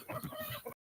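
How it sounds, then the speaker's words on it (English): A rooster clucks and calls in short bursts near a small farm, fairly close and mixed with low background murmur before a brief silence. "Oh, the rooster is trying to get him."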